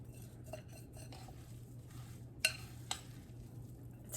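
A spoon works a thick TVP mixture for vegan Italian sausage in a bowl, giving quiet scraping and stirring with a couple of sharp clinks over a steady low hum.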